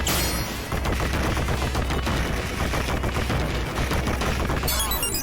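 Bombs exploding in the Teenage Mutant Ninja Turtles arcade game create a continuous, loud barrage of crackling blasts layered over the game's busy music, steady throughout with no pause.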